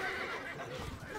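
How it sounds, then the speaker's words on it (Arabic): A horse neighs in the video game Stronghold Crusader Extreme, a short, bright whinny set against a dense, continuous layer of game sound. "الحصان سريع."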